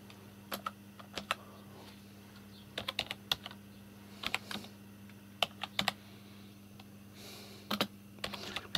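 Keys on a computer keyboard are tapped one-handed in slow, uneven bursts of a few clicks with pauses between, close-up and soft over a steady low background hum; no voices.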